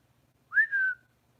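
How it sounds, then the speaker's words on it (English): A single clear whistle, rising quickly and then holding a steady pitch for about half a second, stands alone against a quiet background with no talk. "did you hear that whistle?"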